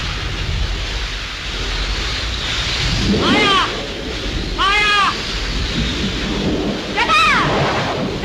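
A thunderstorm roars with steady heavy rain and wind, broken by loud rumbling thunder rolls and several sharp crackling bursts in an old 1937 Hindi film soundtrack.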